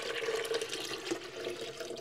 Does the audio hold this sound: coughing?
no